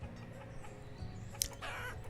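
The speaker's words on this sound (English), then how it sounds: "See these chickens, I wonder if we can capture them." Chickens cluck in the video game Banished, a brief soft clucking over a low ambient game backdrop, with one sharp tick partway through.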